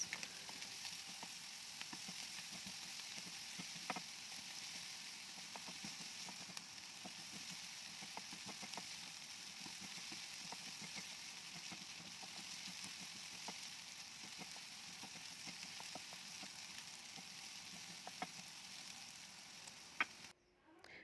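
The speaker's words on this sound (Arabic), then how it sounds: "بعد كده هنبدأ نقلب لحد ما البصلة بتاعتنا تدبل خالص" Finely chopped onion frying with chicken and spices, giving a faint, continuous hiss of oil across the whole stretch, with occasional soft clicks as the pan is stirred.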